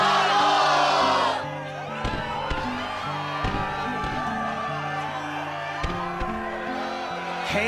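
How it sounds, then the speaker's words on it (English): In the Kingdom Hearts video game, an arena crowd at a Struggle tournament cheers loudly for about a second, then drops back to a murmur under game music and voices. "the crowd is fired up, so you know what comes next"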